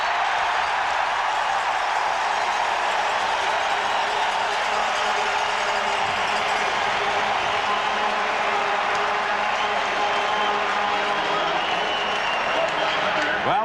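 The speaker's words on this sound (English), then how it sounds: "this crowd at Lansdowne Park is enjoying what they've seen so far tonight" A football crowd at Lansdowne Park in Ottawa applauds during a 1991 CFL game between the Toronto Argonauts and Ottawa Rough Riders, a steady wash of distant clapping and cheering that holds evenly throughout.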